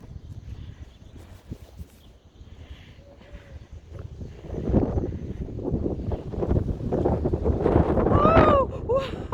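Wind gusting through trees during snowstorm Medea in Elefsina, Greece: a rough, buffeting roar that grows louder and stronger midway, with excited voices exclaiming over it near the end.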